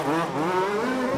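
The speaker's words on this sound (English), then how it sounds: "Engines revving all over the place at the moment." Large-scale off-road RC car engines rev at a European championship race, their high buzzing two-stroke whine rising and falling in overlapping harmonics, loud and close.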